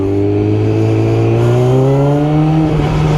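A Yamaha R6 5EB motorbike with a clutch problem revs hard, its engine note climbing steadily in pitch as the throttle opens, loud and close with no talk over it.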